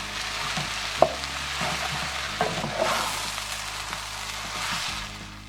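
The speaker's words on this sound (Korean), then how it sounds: "토마토 페이스트를 3큰술 정도 넣고 볶아주도록 합니다" About three tablespoons of tomato paste stir-fried in a pan with vegetables, a steady soft sizzle under occasional scrapes and clicks of a utensil against the pan, close and alone without talk.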